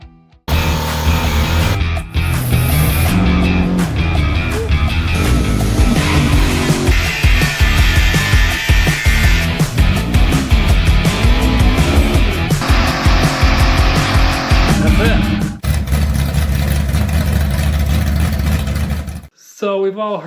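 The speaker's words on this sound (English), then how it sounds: "we're gonna torture test this engine, something I've always wanted to do." A Chevrolet LT1 V8 engine roars and revs hard nearby during a torture test, pitch climbing and falling through repeated bursts, with people talking over the noise before it cuts off.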